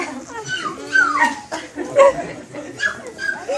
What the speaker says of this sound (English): the dog barked in joy